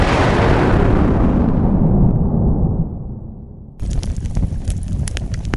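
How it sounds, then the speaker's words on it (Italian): A big explosion roars out as a loud, broad rumble that slowly fades and darkens over about three seconds, then gives way abruptly to a crackling, noisy aftermath. "Maestro, c'è stata un'esplosione."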